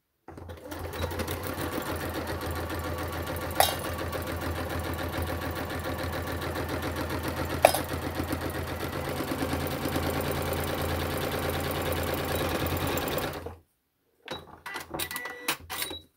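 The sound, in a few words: sewing machine stitching the sides of a handbag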